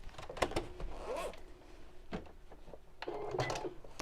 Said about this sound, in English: just unzip